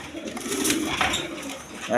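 Rajgolla pigeons coo in a steady, low rolling murmur at close range, with faint talk mixed in beneath the birds.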